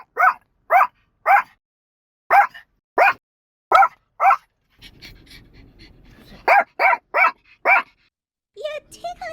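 A puppy in an animated story gives a series of short, sharp barks and yips in quick bursts, with a pause filled by soft panting, then more barks and a whimpering sound.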